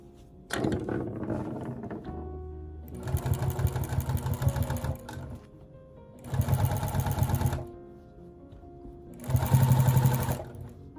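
A sewing machine with a walking foot stitches quilting fabric in three loud, rapid bursts of rhythmic needle hammering, separated by quieter pauses with low motor hum.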